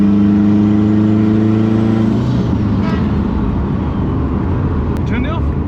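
A turbocharged Honda car engine revs loudly up to about two seconds, holding a steady high-pitched tone, then drops into a rough, rumbling idle. Voices talk over the engine noise.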